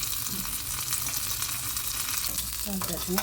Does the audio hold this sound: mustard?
yes